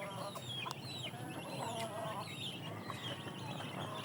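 Small chickens kept on a rooftop cluck and chirp faintly in a busy, continuous background, with several overlapping birds and steady ambient noise.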